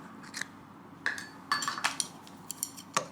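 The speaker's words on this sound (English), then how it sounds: "I'm going to give it a mix like this" A cracked egg is stirred in a bowl for tamagoyaki, giving a string of sharp, irregular clinks of a utensil against the bowl, close and distinct, with no voices.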